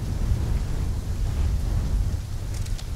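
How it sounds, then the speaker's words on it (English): Steady storm ambience from Call of Duty Black Ops 3 set in Singapore: a dense, continuous wash of heavy rain with deep rumbling low end suggesting thunder, loud and unbroken, with a few brighter splashes near the end. "When the full force of the storm hits, we'll be looking at 150 mile per hour winds."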